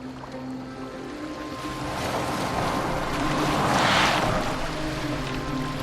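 Viking longboat sailing on open water in Assassin's Creed Valhalla, a steady wash of waves and hull spray with wind rushing, surging louder midway before easing, continuous and alone without talk.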